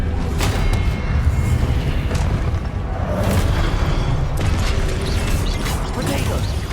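A spell being cast in Hogwarts Legacy, heard as a steady, loud mix of rumbling magical booms and mechanical clatter during a duel, with no break in the noise.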